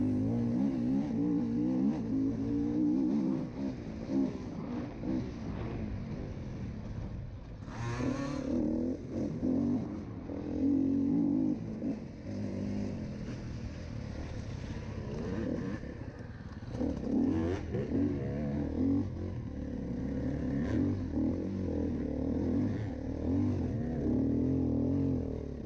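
A dirt bike rides a muddy hare scramble race lap, its engine droning and revving steadily up close with clattering and scraping over rough terrain throughout.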